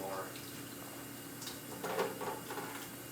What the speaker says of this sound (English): right now we have clean water coming out, filtered through the charcoal housing